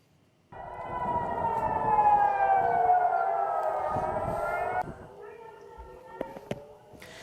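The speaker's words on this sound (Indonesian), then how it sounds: "sirine berbunyi saat rudal Iran terdeteksi di langit Israel Selatan" A loud wailing air raid siren in southern Israel, sounding as Iranian missiles are detected, holds a sustained, slowly shifting tone for several seconds, then cuts off, leaving a few faint taps and background noise.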